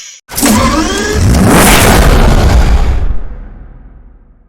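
Bugatti Veyron Super Sport in Need for Speed Hot Pursuit Remastered, a sudden loud engine blast that rises in a revving sweep, holds for a few seconds, then fades into a trailing rumble.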